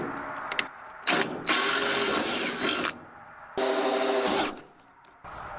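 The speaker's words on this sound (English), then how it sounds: "Right now I'm going to drill them out and tap the hole, which means to thread it" A power drill bores and taps threaded holes in metal for barn door hardware, with loud whirring bursts of a second or more separated by short pauses of quiet.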